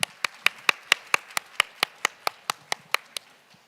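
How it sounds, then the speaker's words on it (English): Hand clapping at the AsiaTEFL 2020 general meeting in appreciation of two presidents: about fifteen crisp, evenly spaced claps from what sounds like a single nearby pair of hands, keeping a steady rhythm before stopping. "why don't we express our appreciation to those 2 presidents by giving them a round of applause"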